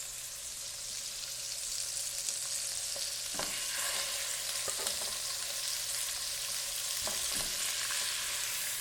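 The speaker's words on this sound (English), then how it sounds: "you just want to sear the outside because it's going to be really well cooked in the crock pot shortly" Meat searing in a hot pan before going into a crock pot, with a constant bright sizzle and a few scraping stirs of a utensil against the pan, no talking.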